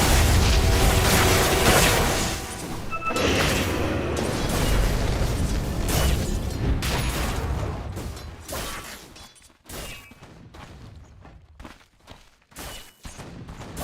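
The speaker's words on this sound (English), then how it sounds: "Dire's middle tower is under fire." Dota 2 match with a tower under attack: dense, loud game explosions and booming impacts roll on continuously, thinning into sparser bursts and pops toward the end, with no talk.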